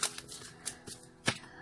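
Tarot cards being shuffled in a handful of crisp, papery riffles and slaps, close and fairly quiet, with short pauses between bursts.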